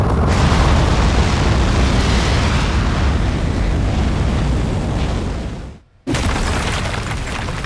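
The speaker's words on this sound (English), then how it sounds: "We have liftoff." A rocket lifts off in the video game Aperture Desk Job with a loud, dense, sustained roar that cuts out abruptly near the end and then returns.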